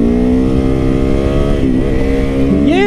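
A motorcycle engine revs hard up close during a wheelie, a loud continuous roar whose pitch holds, dips briefly, then climbs sharply near the end, with no talking.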